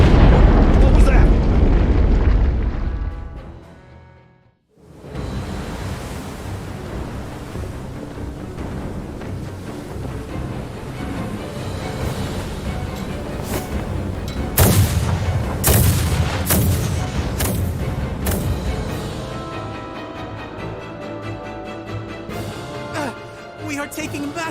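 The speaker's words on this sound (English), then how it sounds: "We are taking massive fire from the Empire's naval battalion. Their unceasing bombardment is laying waste to our forces." Naval bombardment in the Star Ocean: The Divine Force video game: heavy booms and rumbling blasts, with a burst of sharp explosions midway, under a voiced character speaking through much of it.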